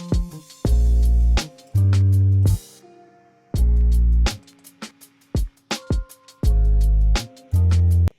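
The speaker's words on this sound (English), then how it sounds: "the hi-hats sound like this" Sharp, rhythmic hi-hat ticks cut through a mix of heavy bass hits and bursts of other percussion, repeating in a steady groove.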